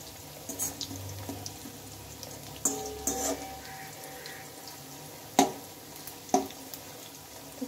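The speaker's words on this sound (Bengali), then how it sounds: "উল্টে পাল্টে কিন্তু সবগুলোকে ভেজে নিতে হবে।" Wheat-flour snacks frying in hot oil, a steady low sizzle with a few sharp spatters and utensil clicks as the pieces are turned; nobody speaks.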